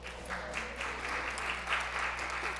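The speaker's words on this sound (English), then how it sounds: "Give us another round of applause." Sustained applause from an audience at a women's forum, a steady wash of clapping that holds evenly throughout without speech on top.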